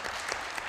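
Short, steady round of applause in a council assembly session, soft and even, lasting under a second.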